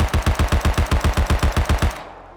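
A stock Tommy gun in the video game Rust fires a loud, rapid full-auto burst of about fifteen evenly spaced booming shots, then cuts off with a short fading tail.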